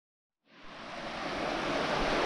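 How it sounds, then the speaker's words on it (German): The Seebach mountain stream rushes out of the Trübsee, a broad steady roar of flowing water that rises in from silence and holds loud and even, with no voices. "Da drüben ist der Abfluss des Seebachs aus dem Trübsee."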